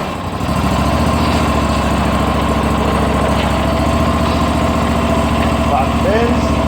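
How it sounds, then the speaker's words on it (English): A John Deere 420 tractor fitted with a snow plow runs close by at a steady, loud, even idle, its engine chugging without pause throughout. "Turn the tractor on."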